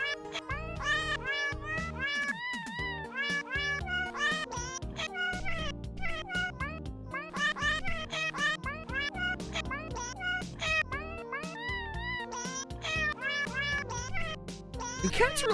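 A cat in the video game Plumbers Don't Wear Ties meows over and over in quick, pitch-bending succession, loud and close, almost without pause throughout.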